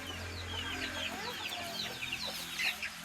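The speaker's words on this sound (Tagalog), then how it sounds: "Bale, nandito yung iba nating sisiw." Two-month-old Australorp chicks peep and chirp in a small flock, with high overlapping cheeps over a constant low background hum.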